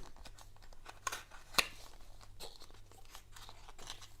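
Rough plastic wrapping on a card game starter deck is torn open by hand without scissors: soft crinkling and rustling broken by a couple of sharp snaps, close up and quiet, no voices.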